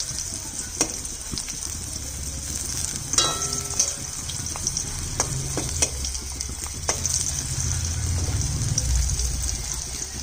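Spiny gourd (kakrol) frying lightly in oil in a pan gives a steady, close sizzle with crackling that swells toward the end, broken by a few sharp clinks of a utensil against the pan.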